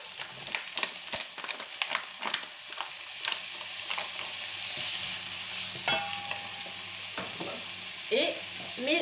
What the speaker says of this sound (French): Je vais mettre d'abord mes lardons.